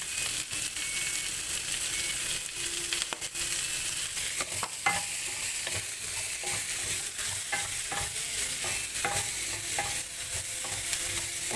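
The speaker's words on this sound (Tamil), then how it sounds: "வெங்காயம் வதங்குறதுக்கு கொஞ்சம் இப்போ சால்ட் சேர்த்துக்கிறேன்." Onions sautéing in oil in a pan for paneer butter masala, a steady close sizzle and fry with scattered stirring clicks and scrapes of a utensil throughout, no talking.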